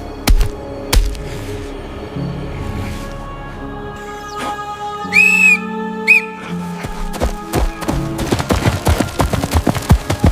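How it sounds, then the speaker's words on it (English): One short, sharp whistle with a rising pitch is heard alone, clear and close, between percussive thumps and drum hits in a soundtrack. "The short, sharp whistle was not an instinctive cry."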